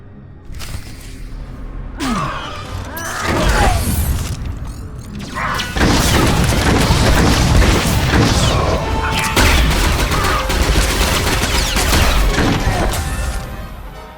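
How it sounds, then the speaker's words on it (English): A firefight in Star Wars: The Old Republic sets off a sustained barrage of blaster fire, impacts and crashing effects, dense and loud after a brief whoosh at the start. "Open fire, men!"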